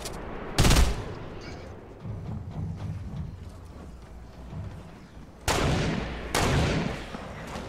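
Gunfire from a video game comes in sharp bursts: one loud shot near the start, then two heavier blasts toward the end. Faint game rumble and quiet noise fill the gaps between them.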